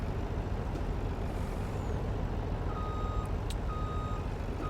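A truck in Farm Sim 19 moves off with steady electronic reversing beeps repeating over a continuous engine rumble, plus a brief hiss like an air brake, with no one speaking.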